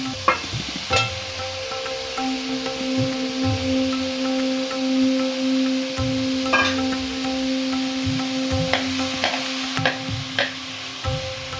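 Radish frying in a pan for momo filling, giving a steady soft sizzle with stirring clatters and scraping taps throughout, plus a faint persistent hum underneath.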